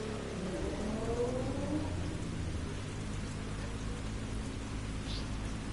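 Rain falls steadily in the racing game The Crew 2, a dense continuous hiss of drops with a low engine-like hum underneath, no voices.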